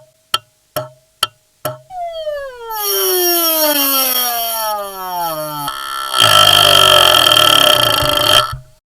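A discontinued vintage relay switching: four sharp, evenly spaced clicks, then a loud electrical buzz with falling tones and a harsh rattling hum that cuts off abruptly, close and alone.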